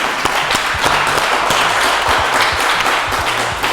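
Loud, steady applause from a small group, dense clapping close by with a few sharper individual claps standing out.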